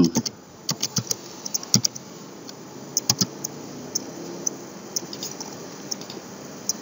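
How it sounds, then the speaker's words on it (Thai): Typing on a computer keyboard, a run of close, crisp key clicks in irregular bursts over a faint steady background hum. "พิมพ์อย่างนี้นะครับ"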